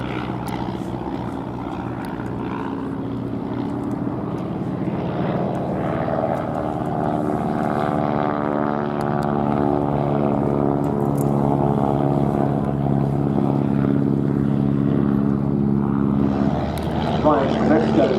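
A vintage Ryan ST propeller trainer with an inline Menasco engine makes a pass at an American air show, its loud droning engine note steady and slowly shifting in pitch, with an announcer talking over it.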